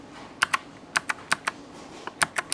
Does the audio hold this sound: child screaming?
no